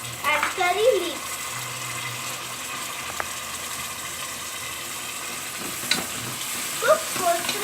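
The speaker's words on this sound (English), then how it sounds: "Now add 2 small tomatoes and curry leaves." Tomatoes and curry leaves frying with already-fried onions in a pan for a chicken curry. A soft, steady sizzle runs throughout with a few stirring scrapes and knocks, while a voice talks over it.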